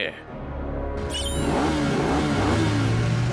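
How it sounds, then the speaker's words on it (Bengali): A cartoon super motorbike engine revs up loudly and steadily, with a rising whine over a low rumble that holds for a few seconds. "আর সুপার স্পিডো, তোমাকে হারানোর জন্য আমার এই সুপার বাইকই যথেষ্ট, যেটা অটো মুডে চলা অবস্থায় অ্যাটাক করে।"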